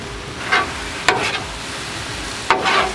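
Bourbon is poured over peaches cooking on a Blackstone griddle, giving a few bursts of loud hissing sizzle, each flaring up quickly and then fading against steady background cooking noise.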